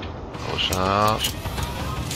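Tank gun reload in the game Armored Warfare, a short mechanical clatter with a buzzing ratchet-like whir in the middle, heard with game noise and a voice nearby.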